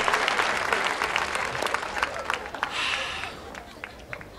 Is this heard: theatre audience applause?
yes